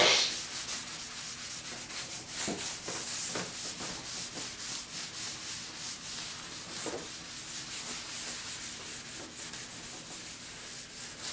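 A rag rubs stain into a wooden kitchen cabinet, producing soft, repeated scrubbing strokes back and forth at a steady rhythm, close and fairly quiet with no voices.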